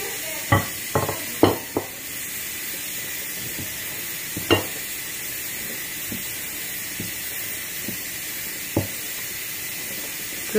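Flour being stirred by hand into baklava dough for Algerian baklawat seniwa, a run of soft scraping strokes, clustered at first and then spaced out, close up over a steady background hiss.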